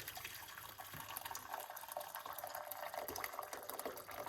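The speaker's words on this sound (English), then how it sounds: "So we're gonna put some hot water." Hot water pours steadily into a cup in a kitchen while a slimming drink with cloves is prepared, a continuous close splashing fill with no talking.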